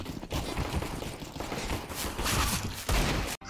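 Rapid gunfire from a CS:GO match, a dense burst of shots cracking continuously for a few seconds, loud and close, with a brief drop near the end before firing resumes.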